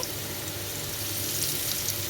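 Steady soft sizzling of potatoes frying in oil, a continuous crackling hiss heard close and fairly quiet.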